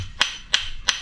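Three sharp hammer strikes come in a steady rhythm, each about a third of a second apart, ringing on a hard surface during backyard cooking.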